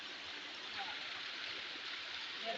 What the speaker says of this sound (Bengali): বৃষ্টির পানি ও পাহাড় থেকে নেমে আসছে।